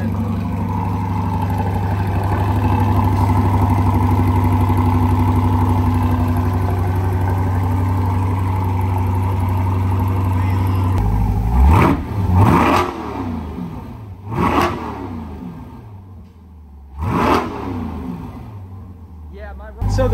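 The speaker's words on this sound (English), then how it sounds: "just now sitting here in idle, it is quite a bit louder than it normally is" Chevrolet C8 Corvette with AWE exhaust idles with a loud, deep burble, then revs sharply several times, each blip rising and falling quickly, with someone talking over the idle.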